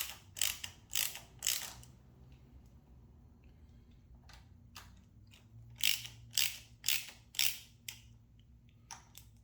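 Ratchet wrench with an 11mm socket tightening nylock nuts on a motorcycle phone mount, giving quick bursts of clicking pawl strokes, a cluster early on and another after a pause, close and clear over a quiet room.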